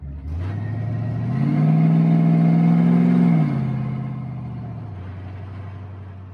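A car engine hums steadily during a test drive, rising to a louder, higher revving stretch in the middle and then easing back to a lower drone.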